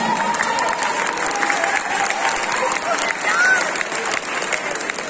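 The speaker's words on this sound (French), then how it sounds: "On applaudit encore une fois bien fort Honoka Kosaka de Love Live School Idol Project." A crowd claps loudly and continuously at a cosplay contest in Nantes, a thick wash of applause with voices and cheering mixed in throughout.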